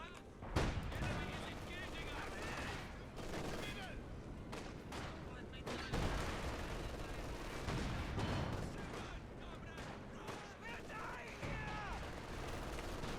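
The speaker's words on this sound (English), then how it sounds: "MG opens fire." A machine gun chatters in the WWII strategy game Company of Heroes 2, mixed with other shots and booms. The fire comes in bursts at steady loudness while a commentator talks throughout.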